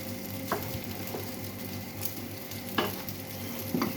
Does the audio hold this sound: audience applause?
no